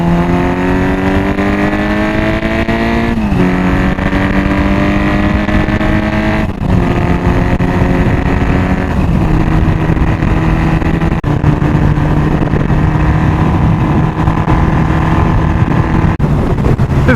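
A Honda 750 Four motorcycle engine while riding, droning steadily and loud close up, its pitch climbing through each gear and then dropping at every shift, settling into a steady cruise.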